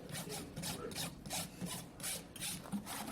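A rasp files a horse hoof in quick regular back-and-forth strokes, a close, faint dry scraping rhythm of about three strokes per second with no talk.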